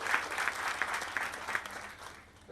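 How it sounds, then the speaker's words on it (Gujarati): Audience applause at a Gujarati devotional bhajan gathering: a steady wash of many hands clapping for about two and a half seconds, fairly loud and even, with no voices on top. "જોરદાર તાળીઓ થઈ જાય."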